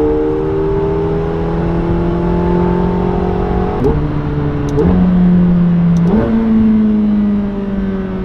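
A McLaren 720S Stage 2 engine accelerates while the tyres are warmed, rising loudly and steadily in pitch with brief dips at gear shifts, close and sustained.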